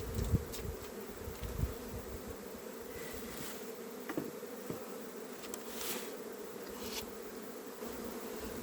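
Honey bees buzzing in a small nuc hive in an apiary, a steady low drone that goes on throughout with a few nearer passes, and no voices.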